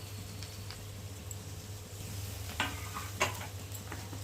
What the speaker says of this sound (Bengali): আর এখন আমি দিয়ে দেবো এর মধ্যে আদা বাটা, রসুন বাটা আর জিরে বাটা